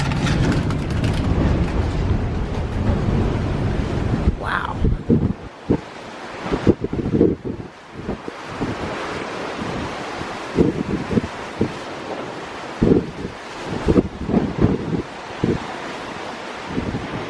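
Strong wind gusts and buffeting on the open deck of the Norwegian Getaway cruise ship, with surf-like roaring, thumping bursts against the microphone, and one brief exclaimed word near the start.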